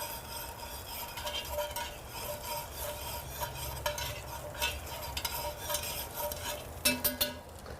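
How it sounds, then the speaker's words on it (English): Vegetables are stirred in butter in a pan, a steady soft sizzle running throughout with scraping and light clinks of a utensil against the pan, and a few sharper clinks near the end. "going to add that to our butter and just give it a nice stir around"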